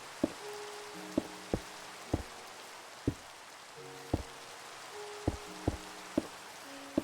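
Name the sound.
rain falling in the video game Minecraft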